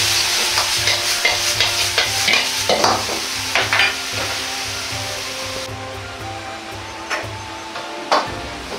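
Liver and garlic chives are stir-fried in a pan, finished with sesame oil, giving a constant sizzle with a steady rhythmic scraping of stirring that eases off toward the end, plus a few sharper clinks near the finish.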